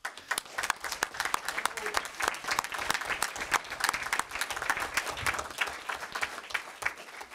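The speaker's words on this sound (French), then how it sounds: "je voudrais qu'on vous applaudisse bien fort" An audience at a Bromont municipal council meeting breaks into sustained applause, a dense, even patter of many hands clapping that carries on for several seconds with a few voices mixed in.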